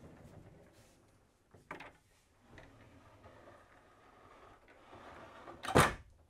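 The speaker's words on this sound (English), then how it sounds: "you'll hear it click or lock back in place" Pocket doors in a 2024 Supreme Aire motorhome snap into their locked position, with one sharp, fairly loud click after quieter sliding and handling noises.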